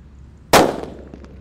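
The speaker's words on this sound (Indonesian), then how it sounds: "Lanjut yang kita nyalakan di sini ada mercon petir guys. Ini juga menggelegar." A single sharp blast from a mercon petir firecracker, one not wrapped in paper, cracks loudly and abruptly in the open and leaves a short rattling decay, with a couple of faint knocks after.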